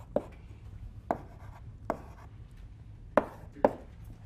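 Chalk drawing a curve on a board in a lecture on plastic strain, heard as five sharp, distinct taps and scrapes at uneven intervals against a quiet background.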